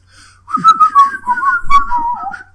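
A clear, close melodic whistle carries the It's Garry Shandling's Show theme tune for a couple of seconds, with steady bright notes and no talking.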